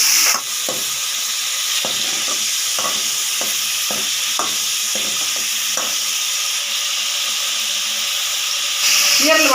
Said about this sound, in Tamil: இது வந்து கிளறி விடணும்.